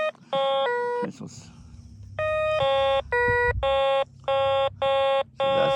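A Pancky entry-level metal detector beeps over a buried coin in a series of clear, evenly spaced electronic tones, repeating rapidly in short bursts, with someone talking faintly and ground rustling underneath.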